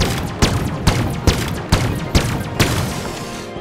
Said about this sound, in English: the Stalker rifle is a semi-automatic plasma rifle in service